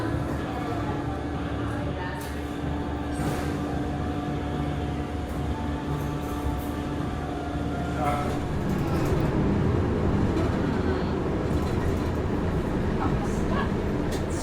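A train runs through an old, ornate Chicago subway station with a loud, steady rumble and hum that swells toward the end, with a voice heard over it.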